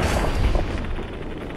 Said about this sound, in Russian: Вот это головной лазер штурматрона.